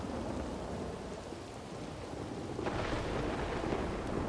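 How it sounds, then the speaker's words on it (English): A thunderstorm in a video game roleplay: steady heavy rain hisses on surfaces while a deep rumble of thunder rolls underneath and swells midway, continuous and immersive. "I can't hear you over the fucking thunder."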